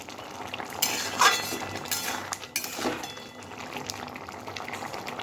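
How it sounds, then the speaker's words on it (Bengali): Vegetable curry simmering and bubbling in a pot, with soft continuous boiling broken by a few clinks and scrapes of a spoon stirring against the metal. "আমি আরও মিনিট দুই তিনেক এটাকে ফুটিয়ে নেব ঝোলটা আরেকটু কমিয়ে দেব"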